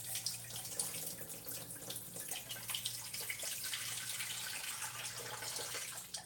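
Salted soaking water is poured out of a bowl of eggplant in a steady splashing stream, close and fairly quiet, with no talk.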